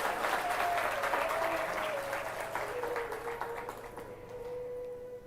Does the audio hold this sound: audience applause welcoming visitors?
yes